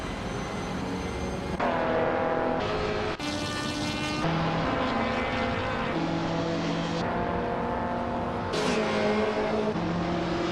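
Race cars roar through a racing video game, engine notes rising and shifting with abrupt gear changes as several cars overtake, loud and continuous throughout with no voices.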